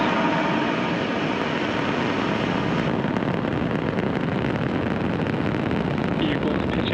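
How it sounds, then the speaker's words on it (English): A SpaceX Falcon 9 rocket launching the GPS III SV10 mission gives a continuous, loud, broadband roar at liftoff that stays steady and overwhelming throughout. "Ignition and liftoff. Go Falcon, go"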